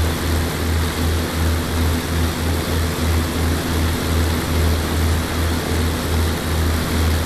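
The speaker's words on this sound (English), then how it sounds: "Now we've got a taxi to the end of the runway." A Messerschmitt ME109 aircraft taxis toward the runway end, its propeller engine droning steadily and close with a rhythmic low pulsing throughout, no voices.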